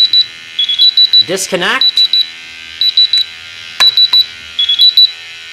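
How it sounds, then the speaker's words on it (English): A Rae Systems QRae 3 gas detector alarm sounds during calibration with a gas cylinder, giving loud, close bursts of rapid high beeps in repeating groups, with someone talking briefly in between. "the echo view is going into alarm because it's telling me one of my meters is getting gassed"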